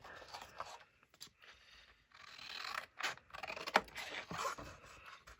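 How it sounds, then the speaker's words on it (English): Scissors snip out a paper piece for a junk journal, a series of quiet crisp cuts and rustling scrapes in short bursts with pauses between, close and faint with no voices. "I'm going to go ahead and cut this out"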